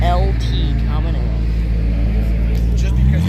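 A McLaren 600LT pulls in at an outdoor car show with a loud, deep engine rumble, close by and steady, while a voice speaks over it.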